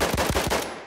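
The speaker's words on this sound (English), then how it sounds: "Oh, I'm shooting at my teammate!" A short burst of automatic gunfire from the World War I shooter game Battlefield 1, three or four rapid sharp shots close together, then a quick decaying tail.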